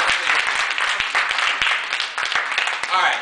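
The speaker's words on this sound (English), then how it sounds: "Clap it up, y'all." Audience applause fills the room in a dense, steady wash of clapping for about three seconds, loud and continuous with individual sharp claps standing out.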